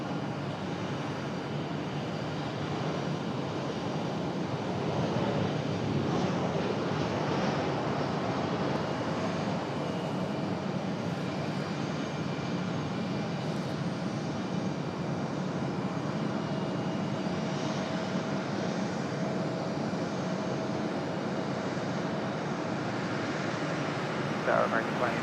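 Steady, continuous engine roar of a JetBlue airliner arriving from Fort Lauderdale at Raleigh-Durham International, sustained and fairly loud for the whole stretch with a faint voice mixed in.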